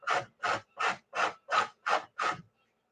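Carrots rubbed against a hand grater in a kitchen, seven even rasping strokes in a steady back-and-forth rhythm, close and clear, ending in silence.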